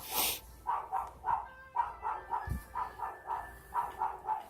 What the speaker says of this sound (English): my dog was flipping out outside